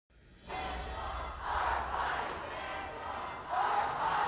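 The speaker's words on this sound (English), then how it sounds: "as this crowd of abortion rights advocates continues to grow louder" A crowd of abortion rights advocates at a rally chants at a distance in rising, rhythmic surges of massed voices. It swells louder in waves after a brief quiet start.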